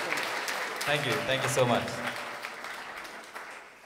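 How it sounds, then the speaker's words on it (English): Audience applause for a performer at an evening of Malayalam music, a broad wash of clapping through the whole stretch with a voice speaking briefly over it. "I'd request a round more of applause for him"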